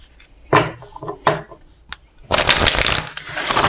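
A deck of tarot cards being shuffled by hand, two quick riffling bursts followed by a longer continuous riffle of cards, close and crisp, with no speech over it.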